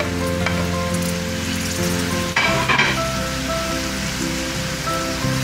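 Tomatoes and cumin frying in a pan for chicken sausage pulao give a loud, continuous close sizzle, with a brief burst of crackling and stirring in the middle.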